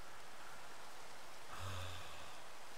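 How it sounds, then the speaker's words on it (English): Steady hiss of rain falling in a Minecraft forest with the Abyssalcraft mod, a soft continuous wash of drops that swells slightly with a low rumble partway through. "Rain, stop, you bastards."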